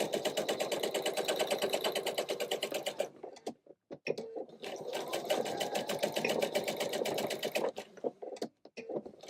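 A sewing machine stitching an ottoman pouf cover runs in fast steady bursts, stopping briefly near the middle for a few clicks and handling noises before resuming, close and clear with no talking.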